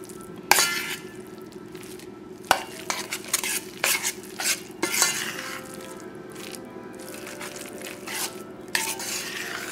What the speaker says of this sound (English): Now we gently mix everything.